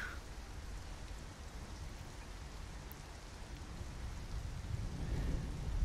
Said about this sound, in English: When it's raining, you know, the ground gets all rain slick